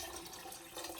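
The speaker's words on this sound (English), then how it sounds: "Pour the water in." Water is poured into tomato sauce for eech, making a brief, soft, hissing splash that stays quiet and even throughout.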